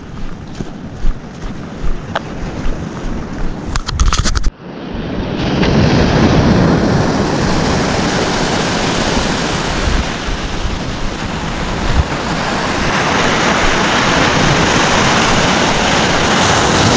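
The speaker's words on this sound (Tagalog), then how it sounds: "These waves" Steady broadband roar of ocean waves washing onto Abulug Beach by the Babuyan Channel, with gusting wind buffeting the microphone; a few seconds of lighter, choppier noise give way to a continuous, loud surf wash.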